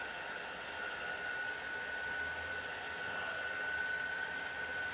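A heat tool blows continuously to dry a surface spray, a steady close-up whoosh of air with a faint high whine running through it, alone and unbroken.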